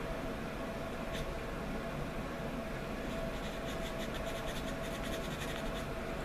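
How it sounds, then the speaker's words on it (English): A knife blade carves a shallow wedge-shaped notch into a wooden arrow shaft, producing a steady, close scratchy rasp with faint repeated scraping strokes throughout and no talking. "Just want to put a good enough slice in."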